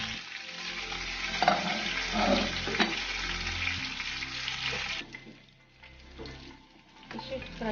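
Fish coated in homemade masala fries in a pan with a steady, close sizzle and crackle that drops to a softer, quieter bubbling near the end, with no clear talking.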